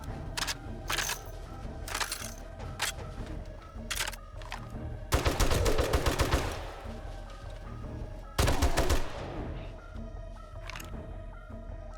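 Gunfire in the 7 Days to Die video game: scattered single shots crack through the first few seconds, then two long bursts of rapid automatic fire, with more isolated shots between and after, at moderate loudness.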